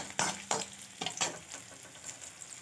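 Spoon stirs salted oil in a frying pan at a home stove, a handful of sharp scraping strokes over a faint sizzle, close and alone with no talking.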